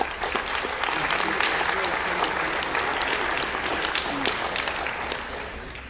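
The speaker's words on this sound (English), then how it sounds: "So please give a round of applause to your coaches and sponsors." Audience applause filling a high school gymnasium or auditorium during a winter sports awards assembly, steady dense clapping throughout the six seconds with a murmur of voices beneath, tapering slightly at the end.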